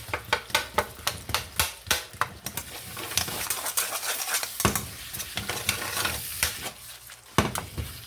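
Ground beef for Philly cheesesteak sloppy joes frying in a pan, flipped and scraped, with a steady sizzle under repeated sharp metal scrapes and knocks of a utensil against the pan, close up with no talk.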